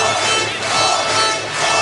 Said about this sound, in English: You can hear them chanting Norby again.